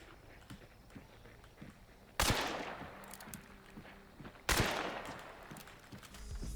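Two loud gunshots from Hunt: Showdown, a few seconds apart, each crack followed by a long rolling echo over a quiet background of faint game ambience and light footsteps.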